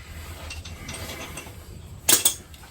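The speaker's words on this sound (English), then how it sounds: "now we're going to turn that crank so it lines up." A ratchet turns the crankshaft of a 1999 Saturn SC1 1.9L SOHC engine: a quiet mechanical background, then a short, sharp burst of ratcheting clicks close by near the end.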